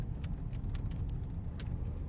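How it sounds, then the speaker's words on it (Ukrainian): A Volkswagen Passat CC releases its automatic brake hold and pulls away, a low steady engine and tyre rumble inside the cabin with a few faint clicks on top. "І машинка сама розтормозилася і можна їхати."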